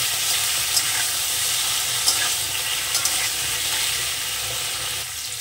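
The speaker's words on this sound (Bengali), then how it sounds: "আমি পনির কটা একটু ভেজে নেব। হালকা করে পনির কটা ভেজে নেব।" Pieces of paneer fry in hot oil, making a loud, steady, close sizzle that runs unbroken throughout, with no one talking.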